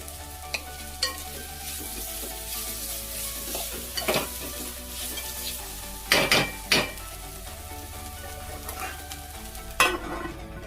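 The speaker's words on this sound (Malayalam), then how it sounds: "നമുക്ക് ഒരു കുറച്ച് വെളിച്ചെണ്ണ ഇതിൻ്റെ പുറത്തൊന്ന് ഒഴിച്ചു കൊടുക്കാവേ" Coconut oil poured over capsicum thoran sizzling in a pan: a steady frying hiss throughout, broken by several sharp scraping and clinking spoon strokes against the pan, close and clear with no voices.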